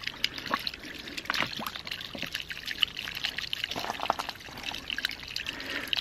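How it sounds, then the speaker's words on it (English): Water gushes and bubbles out of a garden hose used as a ram pump drive pipe in a steady, noisy flow, with splashy trickling that continues throughout. "There it is. I hear it bubbling out."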